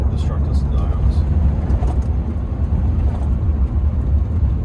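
Old Toyota truck engine idling with a low steady rumble, close by, while people talk over it.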